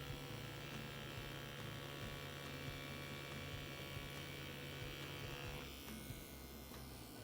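Tattoo machine running while lining a tattoo, a steady electric buzz with a constant hum, quiet and unbroken, dipping slightly in pitch and level toward the end.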